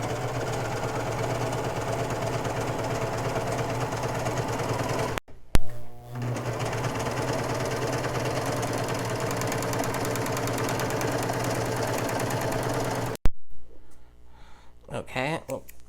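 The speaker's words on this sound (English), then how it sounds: "And now I'm just going to sew" Brother 1034DX serger overlock sewing machine stitching at high speed, a loud continuous mechanical whirr with rapid rhythmic clatter, briefly stopping and restarting, then halting near the end.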